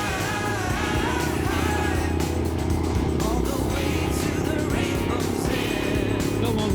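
A Royal Enfield Himalayan motorcycle engine drones steadily while riding along a scenic military road, loud and close with constant wind rush and no pauses.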